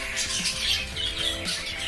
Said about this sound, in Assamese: জাৱাজ বাৰ্ড, ইহঁতে ধান খাই খুব ভাল পায়